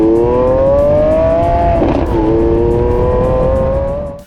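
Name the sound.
Lamborghini Aventador Ultimae V12 engine revving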